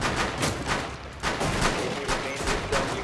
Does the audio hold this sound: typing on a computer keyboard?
no